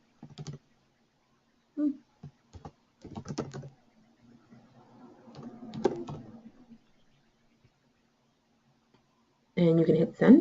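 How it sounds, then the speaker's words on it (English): Computer keyboard typing of names, heard as soft clustered key clicks in short irregular bursts at close range, with quiet pauses between groups. "So I'm going to type in my friends and family's names."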